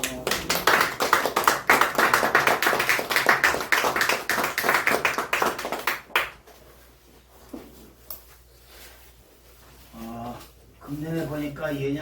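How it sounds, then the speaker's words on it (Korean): A church congregation at a Sunday worship service applauds a deacon's birthday with a burst of dense, loud clapping lasting about six seconds, followed by a quieter stretch and then a voice speaking. "박수 한번 해주세요."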